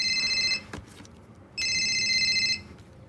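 A telephone rings twice with an electronic warbling tone and goes unanswered, each ring lasting about a second with a short gap between, heard indoors at moderate volume and no one speaking.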